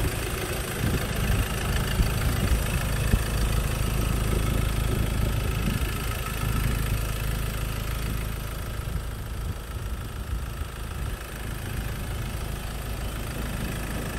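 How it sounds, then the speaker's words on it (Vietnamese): A 2016 Mazda BT-50 with a 2.2 diesel engine, automatic gearbox and two-wheel drive idles steadily, giving a continuous low, even rumble with a faint knocking texture and no talk. "Đây là tiếng động cơ đang hoạt động với quý anh chị ơi."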